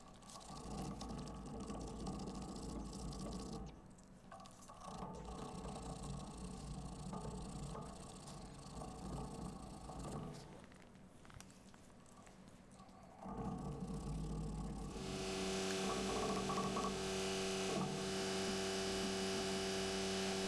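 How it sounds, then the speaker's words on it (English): A Ford 4000 series tractor runs nearby behind a woodturning workshop, heard as a faint, steady low engine drone that carries on throughout and grows somewhat louder near the end, with no talking. "that's my dad on a tractor directly behind me"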